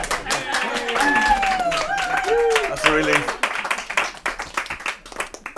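Scattered clapping from a small house-concert audience for musicians thins into sparse claps as someone speaks over it.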